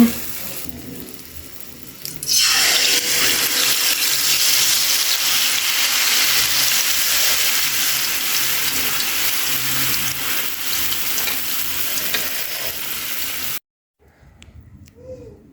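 Rice cake pitha is dropped into hot oil, setting off a loud, steady frying sizzle that rises suddenly and continues for several seconds before stopping abruptly, with no talking.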